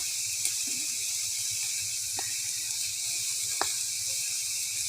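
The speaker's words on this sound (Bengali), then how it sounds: "চিংড়ি মাছটা একটু ভালো করে ভেজে নেব" Shrimp fry in a pan with a steady, soft, high-pitched sizzle that holds evenly throughout. Two brief faint clicks sound partway through, and no one speaks.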